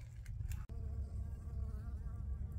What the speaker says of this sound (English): bees everywhere around here